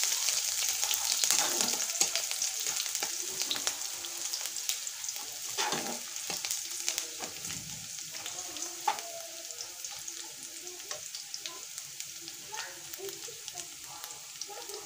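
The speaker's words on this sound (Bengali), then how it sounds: "ভালো করে নেড়ে চেড়ে নেব।" Chilies frying in a pan for guava pickle give a soft, continuous sizzle with occasional scraping stirs, close but fairly quiet.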